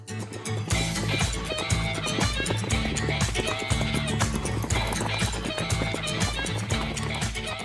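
Horses gallop and trot across burnt grassland plains in Auvergne's Sancy region, with a dense, driving rhythm of hoofbeats under loud, busy music.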